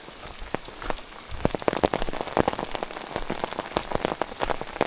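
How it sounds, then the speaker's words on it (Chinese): Heavy rain pours down on a mountain trail in Taiwan's Dabajian Shan area, a dense, steady hiss with sharp drops spattering nearby, intensifying partway through; no one speaks. "下大雨了！"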